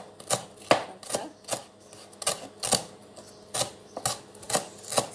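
A knife finely chopping ginger on a cutting board for a small sauce, with sharp, fairly regular knocks of the blade against the board, close and clear, with no talk over them.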